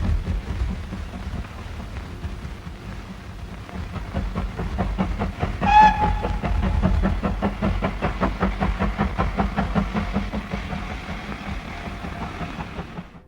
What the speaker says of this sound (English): As a test of stereophonic sound in film, Blumlein made Trains at Hayes Station in